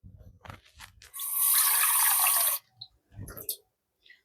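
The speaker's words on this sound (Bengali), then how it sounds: "আর একটু জল দেবো।" Water pours into a cooking pot in a home kitchen, a steady rushing stream lasting about a second and a half amid light clatter of utensils before and after.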